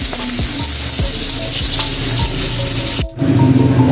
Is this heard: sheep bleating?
no